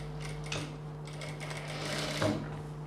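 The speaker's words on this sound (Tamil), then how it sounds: "ஃபுல்லாக சுற்றி ஒரு ஹாஃப் இன்ச்சில் ஸ்டிச் போட்டுடலாம்" A sewing machine hums steadily as it stitches half an inch in from the edge around a boat-neck blouse neckline, starting at the shoulder, with a low continuous drone and faint mechanical ticks.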